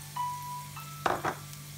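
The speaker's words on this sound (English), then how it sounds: "Okay, now are we gonna add" Chorizo and shrimp frying in a pan: after a quiet stretch with a faint steady hum, two short sizzling bursts flare up close by as the sausage hits the hot pan.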